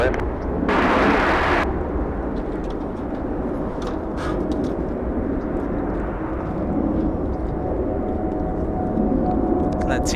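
An Airbus A350 airliner lands on runway 24 right at Los Angeles International Airport, a broad steady engine roar sustained across the whole stretch, with a brief loud burst near the start.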